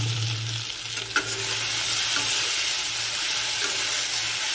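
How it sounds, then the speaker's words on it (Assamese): Kundruli (ivy gourd) being stir-fried in a pan, with a steady sizzle and scraping stirs of a utensil, close and continuous with a brief clink partway through, no talking. "এয়া কুন্দুলি ভাজি আছে এতিয়া"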